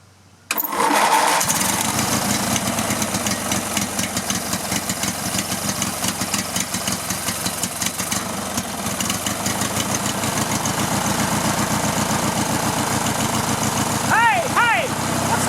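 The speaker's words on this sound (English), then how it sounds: "I'm going to go ahead and turn it over, hold my finger on it, and see if I've got suction on here." A riding lawn mower engine cranks and catches, running steadily and loud close by for most of the span with a rough, pulsing mechanical drone, while a person talks over it briefly.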